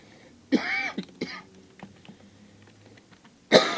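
Several harsh coughs from a person with a lingering cold cough, two close bursts near the start and another sharp one at the end, each loud and near, with quiet between.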